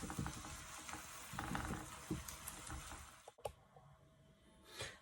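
Minced meat sizzling and frying in a pan for a potato gratin, with a steady crackling hiss broken by a few stirring scrapes and a sharp clatter near the middle, fairly faint and with no talk.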